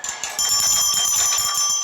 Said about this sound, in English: researchers describe teaching 18 pet parrots to ring a bell.